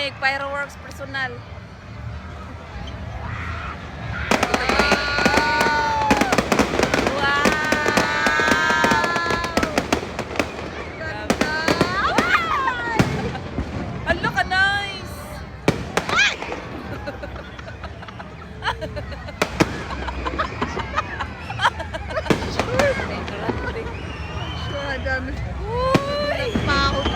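A Christmas fireworks show at BGC bursts overhead in repeated booms and crackles, while a crowd nearby chatters and calls out excitedly throughout.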